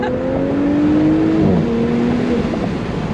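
A tuned 450hp Audi S5 engine revs up steadily, its tone climbing and holding as it accelerates, loud and close with a smooth, continuous drone.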